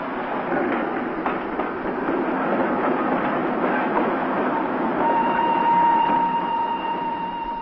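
Steady rumble of a passenger train in Milan station with rhythmic rail clatter, and a thin high squeal rising near the end.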